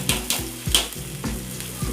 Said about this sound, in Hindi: घी हमारा गर्म हो चुका है। अब इसमें हम प्याज डाल देते हैं।